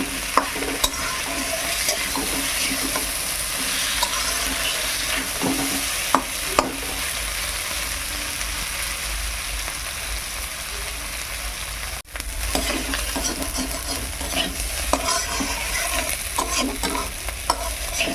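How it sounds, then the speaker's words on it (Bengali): Drumstick stalks frying in a wok over low heat, a continuous soft sizzle with repeated scraping and stirring of a spatula against the pan, one sharp clatter midway. "এইবার আমি ভালো করে ডাঁটাটা ভাজবো সিম আঁচে"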